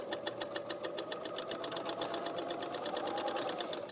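Serger chain piecing fabric, its rapid rhythmic stitching pulses running steadily at moderate volume, close by, with no voice over them.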